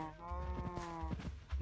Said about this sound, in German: Stimmt, die Kühe haben wir ja auch noch.